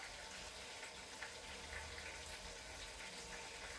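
Water rushing through household pipes after an outdoor tap was turned on, a steady broadband hiss and flow that holds at an even level throughout, with no talking.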